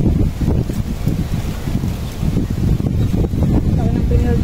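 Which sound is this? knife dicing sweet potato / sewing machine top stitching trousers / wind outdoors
wind outdoors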